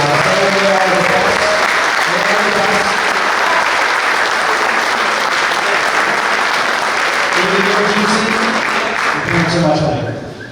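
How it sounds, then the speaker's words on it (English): Sustained applause from a large crowd at a boys lacrosse banquet fills the space, with cheering voices rising and falling beneath the clapping before it begins to fade. "Give a huge round of applause"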